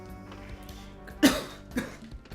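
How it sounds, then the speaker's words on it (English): A single sharp cough bursts out, followed about half a second later by a softer second cough, over a low background hum. "I don't want to cough during the recording."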